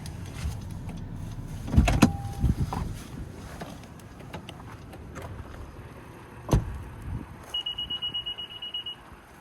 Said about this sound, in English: the sound you just heard was the car letting you know that the key has left proximity of the vehicle while the engine is still running